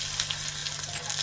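Garlic sizzles steadily in coconut oil in a small pan, a loud, dense, continuous hiss with faint crackles and a low hum beneath.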